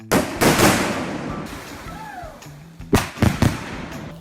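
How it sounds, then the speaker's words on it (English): Fireworks go off at a haunted forest attraction: a series of sharp cracking bursts, clustered at the start and again near the end, loud and close, with a whistling rise between them. "one of my favorite things is when Paul surprises us with some crazy fireworks"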